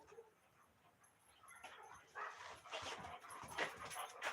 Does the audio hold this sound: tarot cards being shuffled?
no